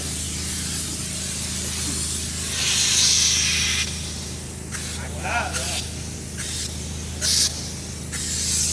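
Spray foam insulation hisses from a spray gun during a construction job, a steady close rush of spray rising and falling as the gun switches on and off, with people talking over it.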